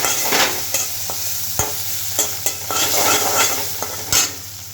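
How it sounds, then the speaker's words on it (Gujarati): Tomatoes and green chilli stirred into hot sizzling tempering for a Jain dal, a steady loud fry hiss with repeated sharp scrapes and clinks of a spoon against the pan. "અને સાથે સાથે હું ટમેટા એડ કરી દઉં છું. તડકો એકદમ મસ્ત લગાવવાનો છે"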